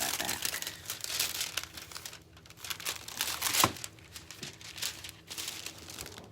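Thin foil is peeled back from a phone case, making continuous soft crinkling and crackling close by, with one sharper tear in the middle.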